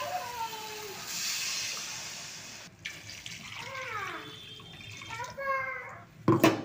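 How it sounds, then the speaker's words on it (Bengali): Water poured into a pan of egg curry with fried spice paste and potatoes, a steady close splash and trickle lasting several seconds, with someone talking over it. "এবার আমি এই অবস্থায় আমি পরিমাণ মতো জল দিয়ে দেব।"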